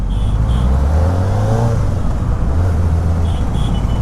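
A Kawasaki Ninja ZX-4R motorcycle engine pulls through city traffic at low revs, giving a steady, relaxed rumble with a slight rise partway through and some road and wind noise around it.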